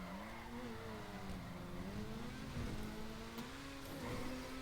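Grotti Furia, an Italian all-wheel-drive supercar in a video game, sliding with its tail out, a continuous tire squeal over a droning engine note that rises and falls, faint and steady throughout.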